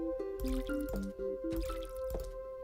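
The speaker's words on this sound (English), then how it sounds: "Oh, let's water our plants at least." Plants being watered in the Plants vs. Zombies Zen Garden video game: a quick run of bright, pitched watery drips and squishes over a steady musical tone, repeating in two bursts.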